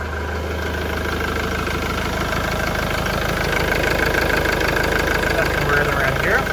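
A car engine idles steadily right after a turbo repair, a close, even mechanical rumble with a fine rhythmic chatter running throughout, with a small throttle rise at the end.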